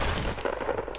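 Rapid gunfire in Fortnite, a quick cluster of sharp shots close together in a brief burst, moderately loud with no talk over it.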